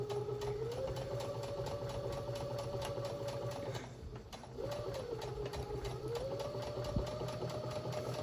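A sewing machine run with a foot pedal stitches a holiday mug rug, with a steady fast mechanical whir and motor hum that pauses briefly midway, then resumes, close and fairly quiet.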